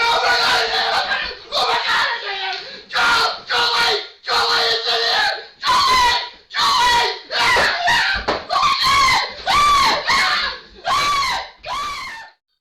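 A man in an office screams in fright at a squirrel that has jumped into the room, loud repeated shrieks in short bursts with brief gaps, a dozen or so yells over several seconds, with some commotion around them.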